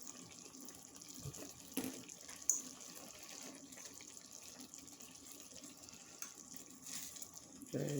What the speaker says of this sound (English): it's starting to boil really good